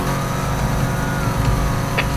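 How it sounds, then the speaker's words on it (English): A BMW M3 in a video game police chase accelerates with a dense, loud engine roar that holds steady and close for the whole short stretch, with no voices. "Starting pursuit of a BMW M3."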